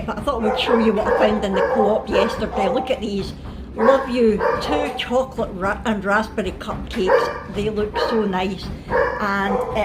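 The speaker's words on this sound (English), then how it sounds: "please excuse the dogs barking" Dogs bark and yip in short bursts in the background of a home while someone talks continuously over them.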